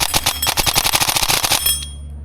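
A custom HK416 airsoft AEG with a brushless motor and Jeftron Leviathan, shooting around 38 rounds per second, fires a rapid, crisp binary-mode burst for about a second and a half, loud and close, then stops and leaves a low hum.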